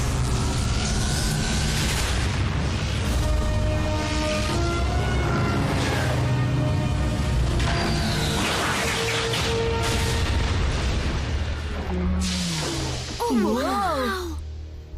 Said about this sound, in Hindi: वो धमाका किसने किया?